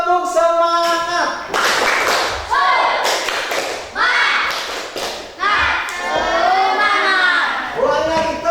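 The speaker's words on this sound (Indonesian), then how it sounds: "Oke, biar lebih semangat, tepuk semangat." An Indonesian classroom of schoolchildren performs a rhythmic spirit clap, sharp claps and thumps in patterned bursts mixed with children chanting and shouting along, loud and close.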